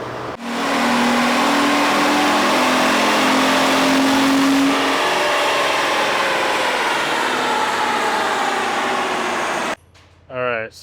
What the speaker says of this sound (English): Now let's see what this thing can do.